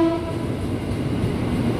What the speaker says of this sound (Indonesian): Barengan kereta sama jalur 3 ada kereta api Manahan